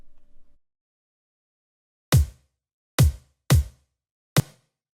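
Layered kick drum sample in an electronic drum production, four punchy isolated hits with deep low thump and short decay, separated by silence after a faint low tone at the start.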